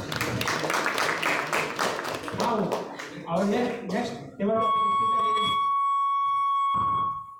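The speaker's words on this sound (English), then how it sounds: "Please give him a hundreds rounds of applause" Applause from a meeting audience for a table topics speaker, a few seconds of clapping amid talk, followed by a sustained electronic tone ringing out near the end.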